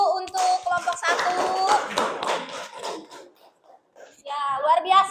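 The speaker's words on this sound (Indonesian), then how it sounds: "Kasih aplaus dulu untuk kelompok 1" Classroom applause for the first student group after a presentation, a short burst of clapping mixed with chatter, then a pause before voices resume.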